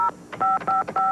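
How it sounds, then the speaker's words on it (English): Four short touch-tone telephone beeps dial a toll-free number in a steady, evenly spaced sequence, clear and close with no talking. "You just dial this toll-free number."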